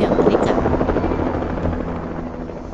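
A rescue helicopter in the Andes mountains roars steadily close by with a dense, throbbing rotor and engine drone, loud throughout the short stretch, with a voice faintly under it.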